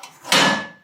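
The cover of a Focus Alpha Max 6250 printer is opened with a single short plastic clack, sharp and close, that fades quickly.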